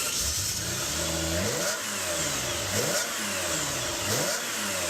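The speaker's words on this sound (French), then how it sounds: "Une 512 Testarossa, les années 80, ça vous dit?" A 1980s Ferrari 512 Testarossa engine revs repeatedly, pitch sweeping up and falling back in several swelling blips, loud and close with steady mechanical roar and no talk.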